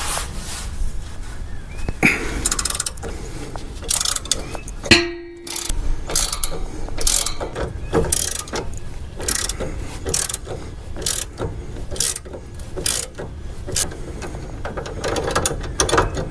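A 21mm wrench works tight bolts on a Jeep Wrangler axle, giving repeated ratcheting clicks and metallic clanks in short bursts with a brief louder clunk partway through, close and fairly loud with no talking.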